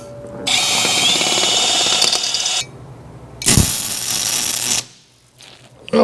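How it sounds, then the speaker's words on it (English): A power drill drills out a bolt in metal, loud and close, in two sustained bursts, the motor grinding steadily with a short pause between them. "I have to either try and drill this out again."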